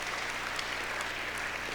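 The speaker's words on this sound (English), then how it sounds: "Give her a round of applause for that." Audience applause fills the hall at an aviation hall of fame induction ceremony, a steady wash of many hands clapping at moderate level without pause.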